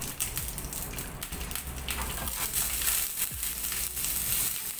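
A steady, close sizzle of oil frying in a pan over a low flame, with soft crackles and faint stirring scrapes running continuously throughout.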